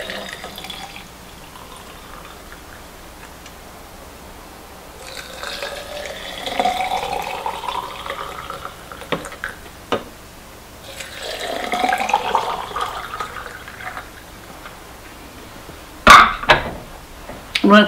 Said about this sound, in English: And what we're going to do is take our filtered water, not heated. I'm going to fill each glass.